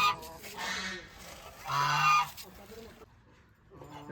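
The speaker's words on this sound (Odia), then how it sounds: "ଏ ସବୁ ଫ୍ୟାନ୍ସିର ବତକ ଗୁଡ଼ା ଦେଖନ୍ତୁ।" Fancy ducks honking close by, a few loud nasal calls in quick succession, then a brief lull before another honk begins.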